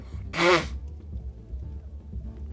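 A single loud sneeze from a person suffering allergies, bursting out near the start and fading quickly into low room hum with faint background sound.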